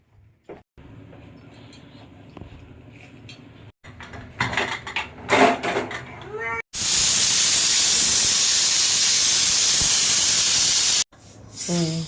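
A pressure cooker cooking country chicken gravy with ginger, garlic and onion lets off a loud, steady hissing steam release lasting several seconds, after clattering kitchen sounds and brief stirring, close by with no speech.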